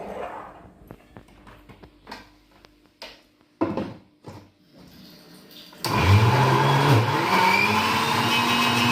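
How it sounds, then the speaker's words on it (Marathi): A mixer grinder whirs loudly and steadily as it blends cooked puran in its jar. The motor kicks in suddenly after a few seconds of quiet kitchen clatter and keeps running to the end. "आता आपण थोडंसं गर असं फिरून घेऊ याला"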